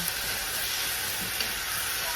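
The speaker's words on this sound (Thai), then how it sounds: "คั่วใส่กับน้ำมันนั่นหมู3ชั้น" Pork belly with garlic stir-frying in hot oil, a steady loud sizzle with bright crackling throughout.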